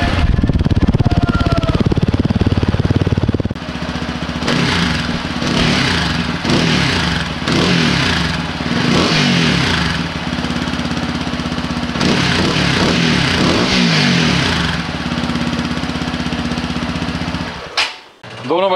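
Loud, close TVS Apache RTR 180 and Apache RTR 200 4V motorcycle engines idle with a steady, throbbing chug, the tone shifting as one engine takes over from another, with a brief blip near the end.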